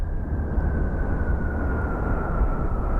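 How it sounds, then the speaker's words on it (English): A large plane drones steadily overhead, a low, distant rumble with a faint constant hum that holds for a few seconds, with no voices. "It sounds like one of the AC-130s."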